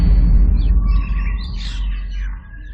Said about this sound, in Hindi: चिड़ियों के चहचहाने की आवाज से पता चला कि सवेरा हो चुका है